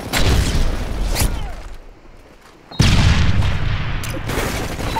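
Predator missile strike blasting in Modern Warfare 3 online play: loud, dense booming blasts and rumbling gunfire, a brief lull, then another heavy explosion that rolls on in sustained rumble.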